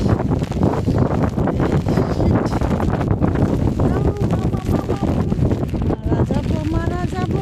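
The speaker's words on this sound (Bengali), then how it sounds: "প্রচণ্ড বৃষ্টি আর প্রচণ্ড বাতাস।" Heavy wind roars across the microphone with lashing rain at the sea cliffs of Ponte da Piedade, a loud, constant buffeting rush.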